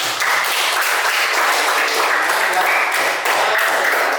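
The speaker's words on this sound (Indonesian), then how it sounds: "Tepuk tangan buat kita semuanya." Children in an elementary school classroom clap together in a steady, dense burst of applause that holds at a fairly even level throughout, with no talking over it.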